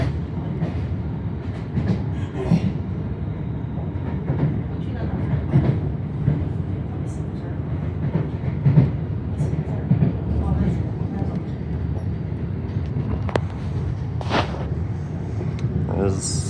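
A Siemens train rumbles along steadily on Melbourne's Sunbury line, heard from inside the carriage as a continuous low drone with occasional clicks and clatter; a person talks at times beneath the running noise.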